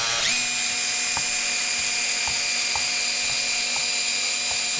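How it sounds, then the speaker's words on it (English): A power drill runs a 3/4 inch step bit through plastic to widen holes on a 2019 Honda CRF 450L, a loud, steady high whine heard close, with faint periodic clicks as the bit bites. "This is a 3/4 inch step bit. And we're just going to open these holes up"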